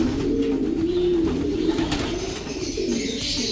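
Pigeons cooing in a cage, a continuous low, throaty burbling of soft rolling coos from several birds close by, steady throughout with no talking.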